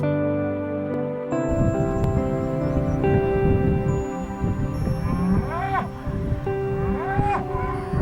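A Shorthorn and Aberdeen Angus cattle herd moos on the island of Swona, with several drawn-out calls at varying distances over a soft outdoor background. Faint sounds of movement fill the pauses.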